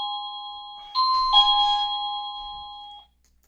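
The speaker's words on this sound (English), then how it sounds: "That's our new doorbell." A new household doorbell rings indoors with a clear two-tone ding-dong chime that sustains and fades over about two seconds, loud and alone in a quiet kitchen.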